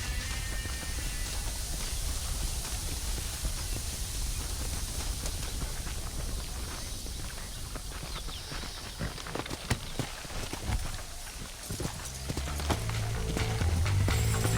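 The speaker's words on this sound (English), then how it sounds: "Come on, horses are over here." Horse hooves clip-clop in a steady, continuous rhythm over a dense background hiss in the video game Red Dead Redemption, lasting throughout with no talking.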